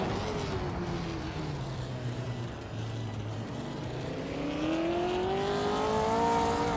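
A 1959 Maserati Tipo 61 Birdcage race car in a racing game: a steady engine drone that sags in pitch then climbs again as it accelerates, continuous and fairly close.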